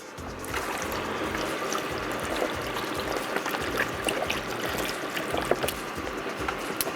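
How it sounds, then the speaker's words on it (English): Beef broth pours into a pot of Texas cowboy stew with diced potatoes, a steady close liquid trickle and splash running for several seconds without talk. "we're going to add some beef broth"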